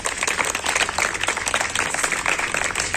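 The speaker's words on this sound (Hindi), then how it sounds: "हम एनटीओ के सभी लोग इनका जोरदार तालियों के साथ स्वागत करते हैं यहाँ पर" An audience at a Republic Day celebration claps to welcome the chief guest, a District Magistrate, with dense, continuous clapping throughout the short stretch.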